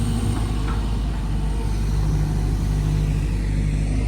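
Excavator engine droning steadily as it smooths ground with its bucket at a house demolition site, a loud, continuous mid-range rumble with no talk.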